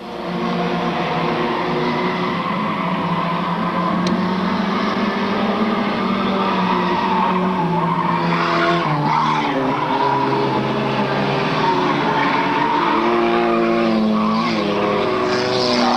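Race cars at a 1997 oval race, their tires squealing and skidding in a continuous loud wail over roaring engines, the squeal pitch shifting and layering as several cars slide through the turns.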